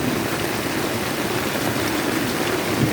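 Heavy rain pours down in a dense, unbroken hiss, loud and close, with steady drumming on nearby surfaces.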